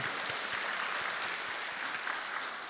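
A church congregation at worship claps in steady, sustained applause, a dense wash of many hands filling the room with no pauses.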